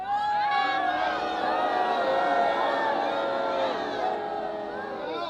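A large crowd at an outdoor protest rally over the Palisades fire cheers and shouts continuously, a dense roar of many voices with whoops rising out of it, steady and loud for the whole stretch.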